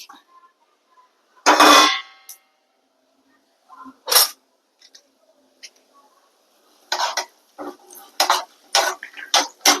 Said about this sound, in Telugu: పోపు గింజలు వేస్తున్నా